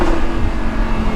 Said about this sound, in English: Another one of my favorite parts about this car is the exhaust.